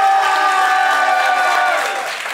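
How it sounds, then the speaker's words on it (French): Audience at an improv comedy show in Paris applauds and cheers briefly, a short burst of crowd clapping with voices mixed in that fades within a couple of seconds. "Pour ceux qui veulent une fin triste, applaudissez maintenant."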